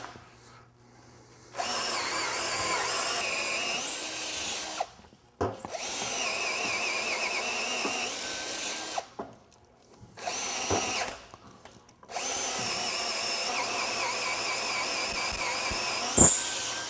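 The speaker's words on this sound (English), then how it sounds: "We have to pass the reamer through all these holes" Power drill turning a reamer through bolt holes in a frame coated with thick Imron 5000 paint, running in several sustained bursts separated by brief pauses, close and loud.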